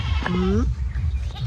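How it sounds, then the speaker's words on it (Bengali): A goat lets out a single wavering bleat over a loud, rumbling outdoor background in a Bangladeshi village in the morning, followed by faint murmuring. "ছাগলে"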